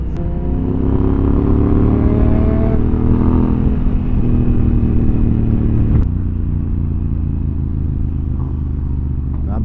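Honda Africa Twin motorcycle riding on a road, a loud continuous engine drone with shifting pitch as it accelerates, plus rushing wind and road noise right at the rider.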